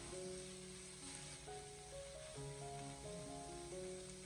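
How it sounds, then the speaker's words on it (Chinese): Chopped pickled mustard greens are stir-fried over low heat in a wok with a continuous soft sizzle, partly covered by melodic background music, with no talking. "再将切好的酸菜添加进来，然后再继续的开小火，给它不停的翻炒"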